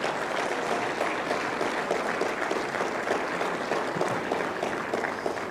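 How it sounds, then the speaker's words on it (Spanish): An audience at an Aymara evangelistic campaign led by Pastor Kim Ki Sung gives sustained, dense applause at an even level throughout. "les damos un fuerte aplauso más"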